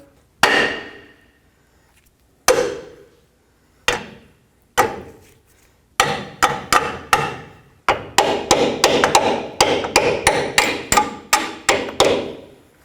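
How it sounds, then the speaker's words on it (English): A hammer taps a bolt into a front lower control arm on a 2007-14 Chevy Silverado, with sharp metallic strikes, first spaced apart, then quicker bursts, loud and close. "Don't be afraid to use a hammer if needed."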